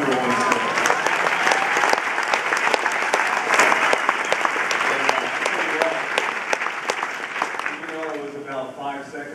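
Standing ovation from a baseball stadium crowd on Mother's Day, a dense, steady roar of clapping that fills the whole stretch and eases slightly near the end, with a voice talking over it toward the close.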